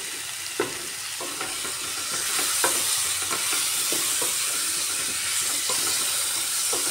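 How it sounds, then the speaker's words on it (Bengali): Pumpkin pieces fry with shrimp in an uncovered pan, giving a steady bright sizzle with repeated clicks and scrapes of stirring throughout, close and fairly loud. "ভাজা ভাজা হয়ে আসছে"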